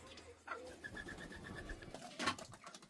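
Pigeons or doves coo softly outdoors at a country home in Jamaica, a short run of repeated gentle calls over quiet background noise, with a brief louder rustle or clatter near the end.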